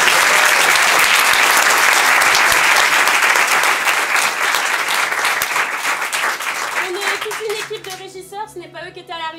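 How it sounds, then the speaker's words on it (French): A theatre audience at an improv comedy festival show applauds the stage managers with sustained, loud clapping that gradually thins and fades, and a voice begins speaking over its tail. "j'aimerais donc que tu applaudisses mes 2 régisseurs du soir de cet après-midi"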